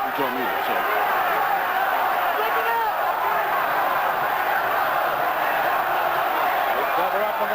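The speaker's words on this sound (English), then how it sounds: "this crowd trying to encourage Segundo" Boxing crowd at a 1994 middleweight bout, a steady wall of roaring, cheering spectators filling the arena throughout, with no pause, loud and continuous.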